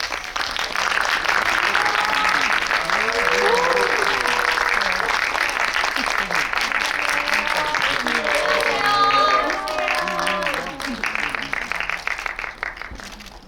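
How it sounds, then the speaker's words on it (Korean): Sustained applause from a large audience welcoming a director and actors onto the stage at a film talk in a Megabox cinema at COEX, continuous and loud with crowd voices mixed in before it tapers off near the end. "큰 박수로 환영해 주세요."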